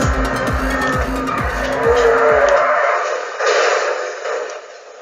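A Pegassi Infernus spins out in a video game, its engine revving in pulsing bursts under a long, loud tire squeal that fades into scrubbing skid noise as the motor cuts off, with no talk.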